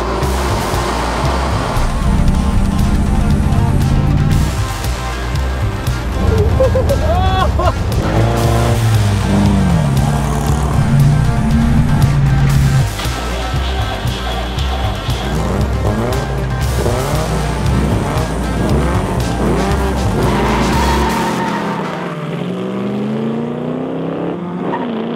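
A car is driven hard, with its engine loudly revving and roaring while the tires squeal and skid in long stretches. The sound is close and continuous, then fades at the end.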